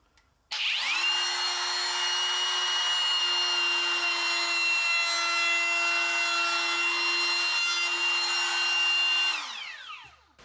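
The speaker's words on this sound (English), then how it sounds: "I've installed a 1/8 round over bit in my trim router" A trim router with a 1/8-inch round-over bit whines loudly as it cuts along a wood edge, starting up, holding a steady high pitch for several seconds, then spinning down.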